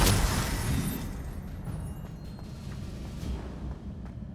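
A Confringo blasting spell explodes in the Hogwarts Legacy video game: a loud boom at the start rolls into a dense rumbling tail with faint crackles, and no voices are heard.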